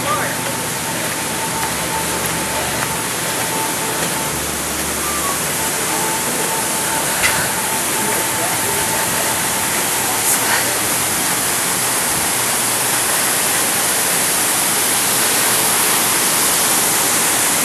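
A waterfall at a Disney park roars as a constant broadband wash of falling water, loud and unbroken, with faint crowd noise and brief voices now and then beneath it.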